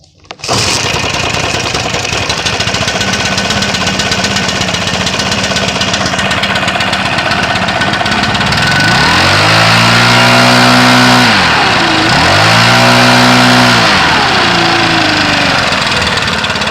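A Stihl BR600 backpack blower with a newly replaced carburetor starts on a pull and runs, its engine droning loud and steady, then revving up and down twice in broad sweeping surges near the end.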